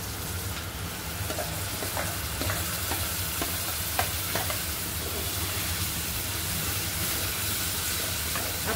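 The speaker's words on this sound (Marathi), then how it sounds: "आपल्याला हे कांदा आणि टमाटर खूप छान परतून घ्यायचंय।" Onion and tomato gravy paste sautéing in a pan, a constant close hissing sizzle with soft bubbling and occasional stirring scrapes, steady and unbroken.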